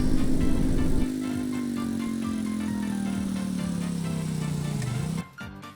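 The Sarge car drives along in Roblox A Dusty Trip, a steady droning engine hum that slowly drops in pitch as it slows, then cuts off abruptly near the end.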